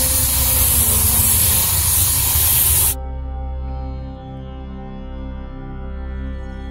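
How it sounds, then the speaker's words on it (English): An airbrush sprays cap plastic for a flat prosthetic, giving a loud, steady hiss that cuts off abruptly about halfway through, leaving only a faint, low hum. "When you're spraying with the airbrush"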